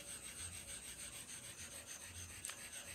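Asano Naguras Koma, a very hard fine-grit stone over 10K, rubbed on a sharpening stone to raise slurry, a faint, steady back-and-forth rasping with an even stroke rhythm and a small click near the end.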